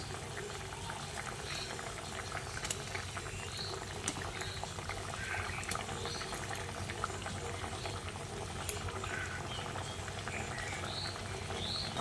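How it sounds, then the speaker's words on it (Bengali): Fish roe fritters simmer in a bubbling gravy, giving a continuous soft boil with scattered small pops and drips, heard up close without any voices. "এবার আমি এই ঝোলের মধ্যে বড়াগুলোকে দিয়ে দিচ্ছি"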